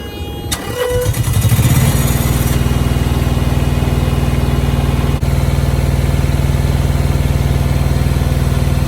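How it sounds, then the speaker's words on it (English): A Tripac Evolution APU on a truck cranks and fires, then settles into a steady, loud diesel idle with a dense rapid rumble that runs continuously after a brief starting burst. "APU is priming and about to fire"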